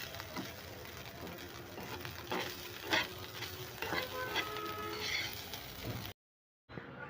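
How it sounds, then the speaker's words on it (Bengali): Rice frying in a pan gives a soft, steady sizzle with intermittent scraping and stirring clinks, fairly quiet, ending in a brief silent break. "বাচ্চাগুলোর জন্য ভাত ভাজা তো বসিয়ে দিলাম"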